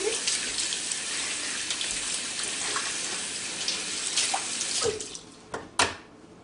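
Water runs steadily from a tap while hands are washed, a close, broad hiss that shifts slightly with movement, then cuts off near the end, leaving a few brief splashes and clicks.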